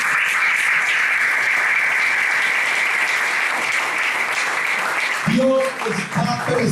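Loud, sustained applause from a church congregation during a Sunday sermon, steady dense clapping filling the room for about five seconds before voices and music-like tones break in near the end.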